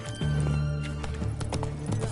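Hooves of the horse Roach clip-clopping at a trot in the Witcher 3 video game, a close, steady rhythm of hoof beats with a brief whinny and faint background game sound.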